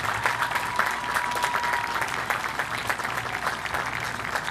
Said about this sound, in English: So please, graduates, you give a round of applause to your family members.